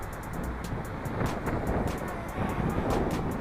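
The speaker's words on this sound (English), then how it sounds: "and it is windy." Steady wind gusting during a winter storm buffets an outdoor microphone, a continuous low roar swelling and easing across the whole stretch with no voices.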